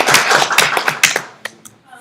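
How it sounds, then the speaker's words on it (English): Short burst of clapping for Shaquana at a training-day intro talk, loud, close individual claps quickly tapering into a few scattered final claps. "everybody, give Shaquana a great round of applause"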